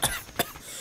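A person coughs twice, a sharp short cough followed by a second, softer one, close and clear with no talk, heard in a Malaysian cough syrup advertisement.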